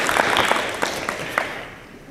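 An audience at a community event claps in a scattered, moderately loud burst of applause that gradually thins and fades over about two seconds.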